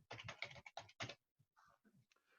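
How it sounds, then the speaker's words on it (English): Quick bursts of typing on a computer keyboard, clusters of close clicky keystrokes followed by a few sparse, fainter taps. "I'll see how awful my typing is here"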